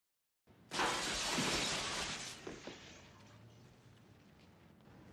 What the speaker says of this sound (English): He just put his hand in broken glass.